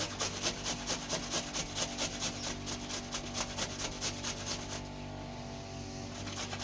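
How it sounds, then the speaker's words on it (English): Raw vegetables such as cucumber, carrot, radish and apple rubbed against a grater for a salad, making a steady run of rhythmic rasping strokes that fade toward the end, with no talking. "All are easy to grate."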